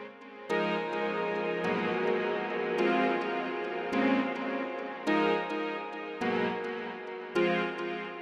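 Lush chords from a Stacks granular looper synthesizer with chorus and a reverb tail, each chord held about a second before the next, steady and full with no voices.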